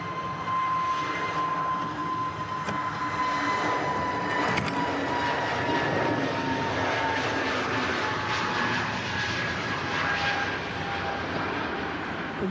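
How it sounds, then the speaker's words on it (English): An EasyJet Airbus A320neo departs Manchester Airport, its jet engines producing a loud, steady broadband roar with a sustained whine held throughout, no voices. "runway next to depart is EasyJet's A320 Neo"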